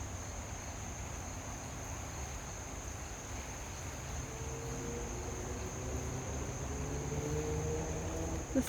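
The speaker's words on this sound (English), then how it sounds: "And the birds. And the crickets." Crickets chirp outdoors in a steady, faint, continuous trill over a low background hum, with no voices.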